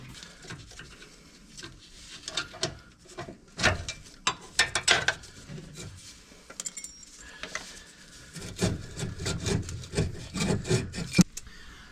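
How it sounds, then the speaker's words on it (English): A hand ratchet loosens valve cover bolts on an air-cooled Volkswagen Vanagon engine, giving repeated close clicking and ratcheting bursts separated by scraping, rubbing and clanking of tools against metal. "I'm going to go from the other side now. Get those two bolts out."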